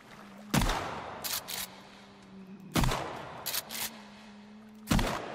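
Three heavy shotgun slug blasts in Sons of the Forest, spaced about two seconds apart, each loud and close with a sharp boom, followed by quick mechanical pump or reload clicks in between.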